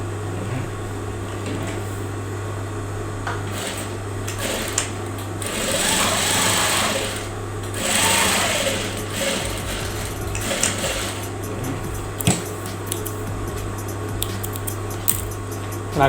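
A sewing machine stitches a hoodie pocket in place, running in steady motor bursts with brief pauses, a constant low hum underneath and occasional small clicks of fabric handling.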